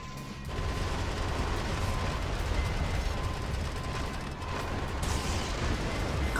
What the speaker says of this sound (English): Double machine gun.